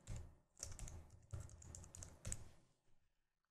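Quick bursts of typing on a computer keyboard, several short runs of clicky keystrokes separated by brief pauses, close and clear in a quiet room.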